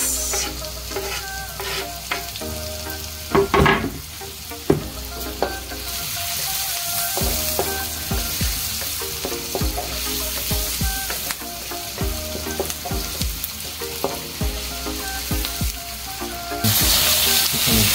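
Onions sizzle steadily as they fry in a pan for a seafood dish of shrimp and crab, with repeated scrapes and clacks of stirring over a continuous close frying hiss.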